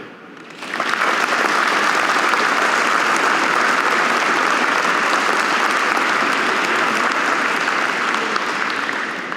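Large audience at the Wisconsin Aviation Hall of Fame induction ceremony breaks into a loud, sustained round of applause that swells in within the first second and holds steady to the end.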